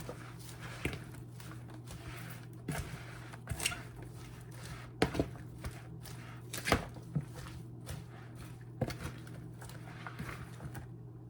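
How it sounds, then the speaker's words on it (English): Fattoush salad is tossed in a bowl, making soft irregular knocks and light clatter over a steady low hum, moderately close and fairly quiet. "Now I'm going to mix the salad."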